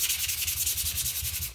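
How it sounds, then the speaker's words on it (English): Sanding painted wooden toy truck parts by hand, a steady rhythmic scratching rub with quick regular back-and-forth strokes, close and alone. "I'm going to sand these."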